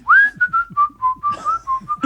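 A person whistles Deck the Halls, a quick run of clear, close melodic notes in a steady rhythm, with no talking.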